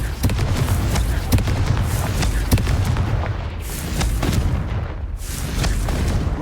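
Confringo fire-spell blasts in the video game Hogwarts Legacy, loud booming explosions that repeat over a dense, continuous rumble of game sound, with no voice over them.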